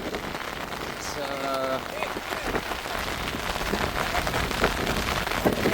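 Heavy rain in Jaffna, a steady dense hiss of rain pouring on surfaces that grows slightly louder, with a brief voice and a short tonal sound near the start.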